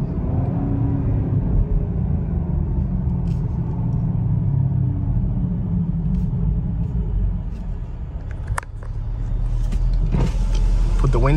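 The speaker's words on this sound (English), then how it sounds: "Put the windows down." Power windows on a 2023 Chevrolet Camaro SS with a V8 whir down during a night drive, a brief motor hum over the steady loud cabin and engine rumble near the end.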